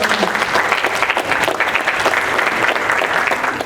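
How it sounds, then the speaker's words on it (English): An audience at a talk on world and character building claps in a steady, dense burst of applause, close and lively, sustained for several seconds. "Give you guys yourself a round of applause."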